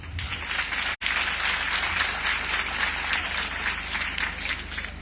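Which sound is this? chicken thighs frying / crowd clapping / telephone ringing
crowd clapping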